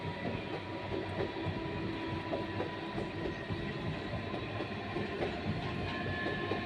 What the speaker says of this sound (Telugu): అదిగో ట్రైన్ వెళ్తుంది దాని పక్క నుంచే